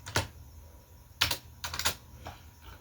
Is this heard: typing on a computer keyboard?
yes